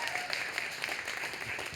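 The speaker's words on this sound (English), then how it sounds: "Can we get another round of applause for Crystal Valentine?" Audience applause at a poetry event in Boston, a brief burst of many hands clapping that sounds moderately distant, softer than the room's speech levels and lasting under two seconds.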